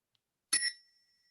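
One sharp strike of a boxing ring bell marks the end of round three, ringing bright and clear before decaying into silence.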